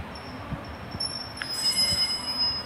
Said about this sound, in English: Right, departing now, 142077, heading to Carmarthen.